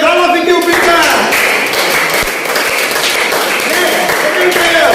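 At a cricket finals award ceremony, a crowd claps for a hat-trick hero and Best Scholar awardee, making loud continuous applause with sharp taps and a ringing ping, while voices talk underneath.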